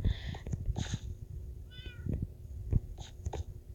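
Cat meowing several times in quick bursts, close and moderately loud, with a brief rising trill midway, alone without talk.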